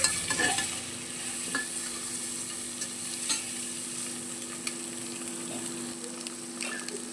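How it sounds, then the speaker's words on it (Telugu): Boiled eggs frying in a cooker on a low flame, coated with salt and chili powder: a soft, steady sizzle with faint stirring scrapes, heard alone without talk. "ఆల్రెడీ బాయిల్ చేసి పెట్టుకున్న ఎగ్గులు అనమాట ఉప్పు కారం పట్టేలాగా కొంచెం సిమ్లోనే ఫ్రై చేసుకోవాలి"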